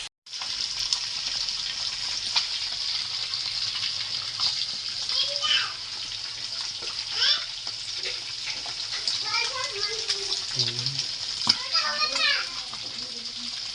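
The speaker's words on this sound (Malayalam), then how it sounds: "എണ്ണയിൽ മുരിഞ്ഞ് തുടങ്ങിയിട്ടുണ്ട്." Food deep-frying in hot oil in batches, a steady bright sizzle running throughout, with children's voices and bits of speech rising over it in the background.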